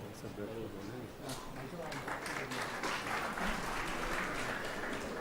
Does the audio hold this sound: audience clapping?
yes